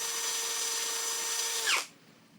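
A white Skoota 16.8V cordless drill runs steadily at high speed with a constant whine, then spins down and stops near the end, heard alone at moderate loudness.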